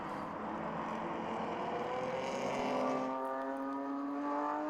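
Race cars including the Alnimax Racing BMW in the GTB class run at a circuit, engines droning steadily with rising pitch as revs climb, a continuous distant roar.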